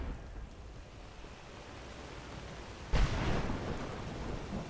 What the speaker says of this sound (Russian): если тут использовать крик, грозовой зов, то туман пропадет?